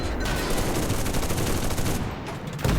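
Rapid gunfire and heavy cannon shots from a tank battle in the Enlisted video game, a dense, loud barrage of overlapping blasts with a brief lull near the end before another shot.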